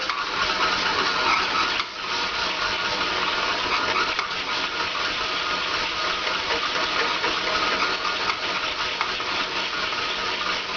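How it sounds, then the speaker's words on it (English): Stand mixer with a dough hook kneading naan dough, running as a continuous whirring motor drone with a faint rhythmic knock, close and steady for the whole stretch, no voices. "adding a little bit of flour, just a tablespoon or so, will cause it to loosen and begin kneading again"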